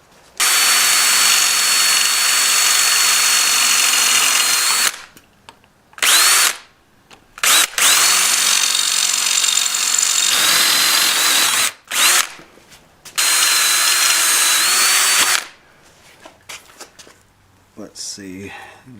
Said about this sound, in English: Now I can drill those holes out and get the signal lights mounted.